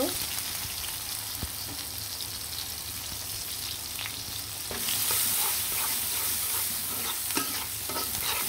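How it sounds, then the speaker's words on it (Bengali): Chopped onions frying in a pan after browned chicken pieces were lifted out, giving a constant bright sizzle close up that grows louder partway through, with scattered stirring clicks. "আর এখন কুচি কুচি করা পেঁয়াজ দিয়ে দিব।"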